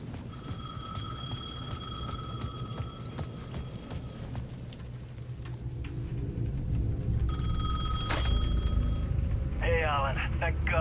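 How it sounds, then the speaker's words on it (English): A payphone rings in Alan Wake 2, its electronic bell rising in repeated bursts over a dark, rumbling ambient bed, louder in the later part. "The payphone at the edge of the plaza was ringing again."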